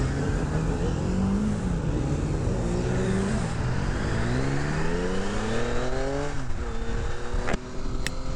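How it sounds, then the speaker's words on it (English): A 2024 Yamaha Tracer 9 GT+ motorcycle on the move, its engine note climbing and dropping through gear changes in a steady, loud drone with rising harmonic sweeps and a couple of brief sharp clicks near the end. "we're riding on the Tracer 9 GT Plus"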